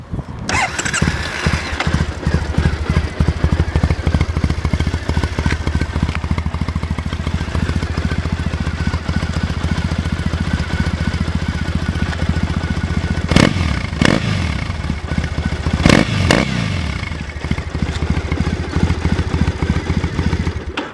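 A 2014 Triumph Bonneville T100 motorcycle with 2,325 miles and a mostly stock setup starts at once and settles into a loud, steady idle nearby, with two sharp throttle blips near the end.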